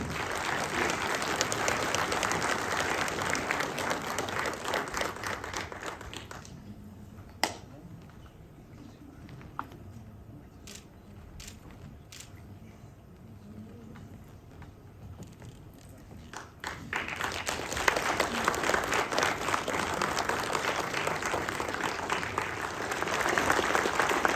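An audience applauds at a medal ceremony, loud sustained clapping that drops to a quieter hall for several seconds, then swells back into full applause.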